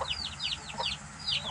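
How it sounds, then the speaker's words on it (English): Chickens cluck in a farm group that includes at least two roosters, with a string of quick, close, bright calls coming in clusters over steady background noise. "there's two roosters in that group."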